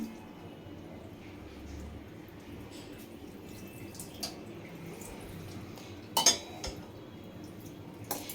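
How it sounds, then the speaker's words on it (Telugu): Water is poured, trickling and splashing softly during washing, with a few sharp clinks of dishes and one louder clatter partway through. "ఇదండి వాటర్ అయితే పోస్తున్నా"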